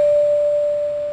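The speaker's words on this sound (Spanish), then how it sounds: "Les quiero presentar un instrumento que se llama una campana resonadora. Y suena así." A single pure tone from a resonator bell rings steadily and sustains without fading much over its brief duration.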